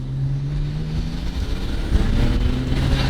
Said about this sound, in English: Hear those intakes.